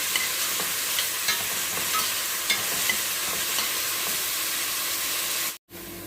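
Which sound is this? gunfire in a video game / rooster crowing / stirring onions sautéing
stirring onions sautéing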